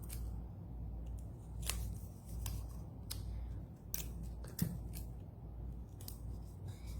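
Scissors snip through paper while a craft dragon is made, a series of sharp, close, irregular cuts over a quiet background.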